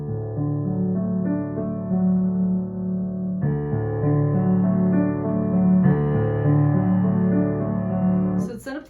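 Broken chords on a piano, notes rolled out one after another in a steady flowing arpeggio pattern through several chord changes, played alone at moderate volume with no talking.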